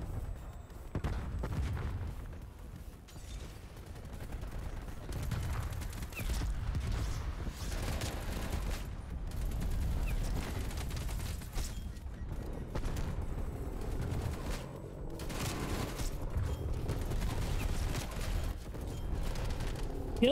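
AK47 gunfire in the Call of Duty Cold War video game, bursts and single shots scattered over a busy, rumbling game backdrop with mechanical clatter, moderately loud and without voices.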